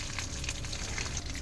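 Mustard oil with black mustard seeds and chilli powder sizzling in a pan for kadi chawal, a steady close crackle and hiss throughout with no talk.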